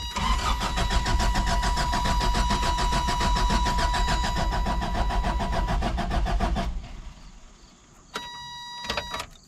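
A 1988 Toyota van engine cranking repeatedly without starting, a steady fast starter whir for several seconds that stops, followed by a brief second burst of cranking.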